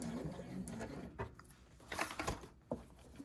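A home sewing machine stitches a 5/8-inch seam on a beginner crossbody bag, giving a fast mechanical patter in short bursts that stop and start, close and moderately loud, with a few louder clicks near the end.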